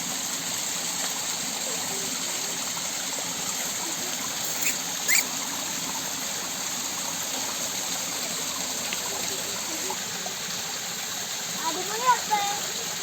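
Water flows in a steady, even rush where a young boy plays, with a few faint voices and small splashes rising briefly above the constant stream.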